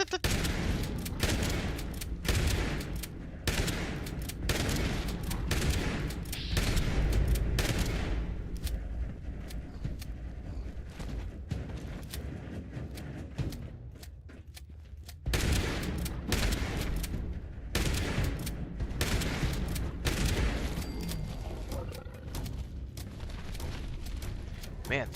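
Shotgun blasts from the Fallout 76 video game, loud repeated booming shots in rapid irregular bursts with heavy low-end punch, firing densely throughout with a short lull midway.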